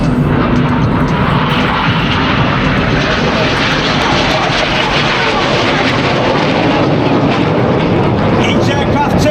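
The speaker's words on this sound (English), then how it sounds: "Each aircraft does a barrel roll. They'll pass in the middle for the circus." Red Arrows jet aircraft passing during an airshow display in Malta, a loud, continuous broadband engine roar sustained throughout with no gaps.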